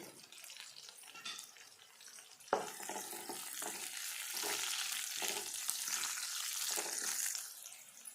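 Curry leaves and garlic cloves frying in oil in a pan: a steady close-up sizzle that jumps louder about midway and holds hissing to the end, with no talking.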